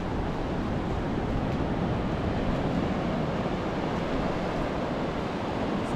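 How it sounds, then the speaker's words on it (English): Steady, heavy roar of big surf crashing on the beach at Sullivan's Island over sandbars, broad and continuous with wind noise buffeting throughout, no voices. "Some big waves out there."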